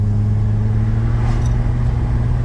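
Inside a Holden VY Calais running in third gear, the engine gives a steady, loud low drone with a constant hum and no clear rise in revs.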